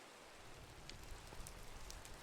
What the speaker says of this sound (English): Why is it raining through that?